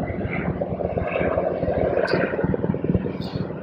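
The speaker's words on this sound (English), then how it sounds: "there's a Navy helicopter field, and it's going to get a little noisy at sometimes" Steady rumbling drone of a low-flying Navy helicopter passing fairly close and loud near a river valley estuary, with no talking.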